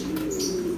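Female pigeon giving a low, steady coo, close and sustained, with faint background noise.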